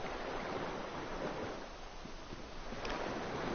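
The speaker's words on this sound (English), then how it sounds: "It's like running water." Running water in the Dark Souls video game, a steady rushing wash that holds level throughout with no voices.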